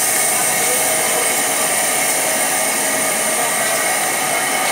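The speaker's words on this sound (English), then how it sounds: "we just put deck under initial vacuum, pulling the air out of our part" A vacuum pump draws air from a bagged composite deck for a Metan Seacraft 23 center console during vacuum infusion, giving a steady, loud, unbroken hiss and whine with no change across the stretch.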